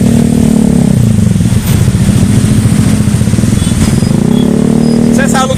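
Motorcycles and cars stream past on a busy street, a loud, continuous engine drone with rising revs and passing swells that never drop away, a faint voice occasionally underneath.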